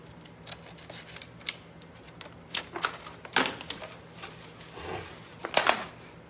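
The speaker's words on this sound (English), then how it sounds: "So I'm just gonna cut that little orange, peachy kind of coral flower out." Scissors snip out a small orange-coral paper flower, a run of crisp close cuts in irregular bursts with a few louder snips near the end, with no talk.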